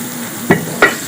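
Ginger garlic paste frying in a karahi with browned onions and chopped tomatoes, a steady low sizzle broken by two short stirring scrapes close by.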